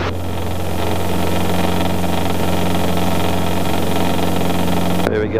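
A Robinson R22 helicopter engine runs steadily and loudly at close range while the aircraft hovers, a dense droning hum with a sharp change right at the end.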